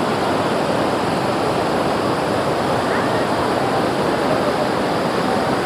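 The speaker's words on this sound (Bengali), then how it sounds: "এটা কিন্তু একদম বশিষ্ঠ মুনির আশ্রমের একদম পাশেই কিন্তু এই ঝর্ণাটা অবস্থিত" Steady roar of a waterfall beside Vashistha Muni's ashram in Guwahati, a dense, continuous rush of falling water that stays loud and unbroken throughout, with no voices over it.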